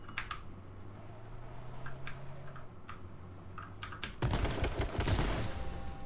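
Gunfire in the online survival shooter H1Z1, a loud burst of several sharp shotgun blasts late on, preceded by scattered clicks and faint distant shots over a low steady hum.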